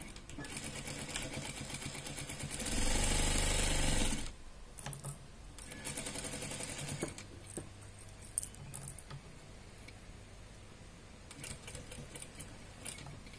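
A sewing machine stitches a fabric mask pouch in close, continuous bursts, loudest early on, then shorter intermittent runs with mechanical clicks between them.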